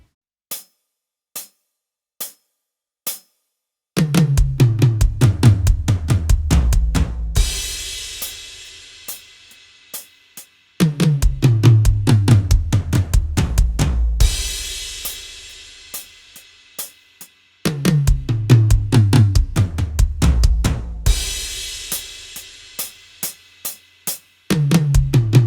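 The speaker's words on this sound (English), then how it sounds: "It's a 3-note grouping of 2 flams with the hands," Drum kit fill built from groupings of two hand flams followed by one bass drum note, repeated in loud bursts with cymbal crashes between sparse stick clicks counting time, played solo up close.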